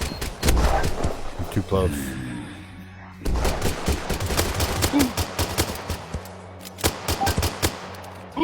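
Rapid pistol gunfire in a video game, sharp repeated shots in bursts and singles across the whole stretch, with a player's voice talking over the action.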